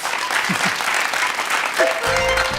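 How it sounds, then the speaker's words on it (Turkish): A studio audience on a quiz show bursts into applause for a correct answer, a dense wash of clapping with brief voices and a low tonal sound entering near the end. "Alkışlıyoruz evet"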